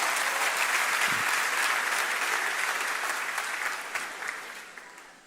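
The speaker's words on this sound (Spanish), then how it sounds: "Un aplauso para los costeños." An audience claps in sustained, dense applause for people from the coast, holding steady before gradually tapering off toward the end.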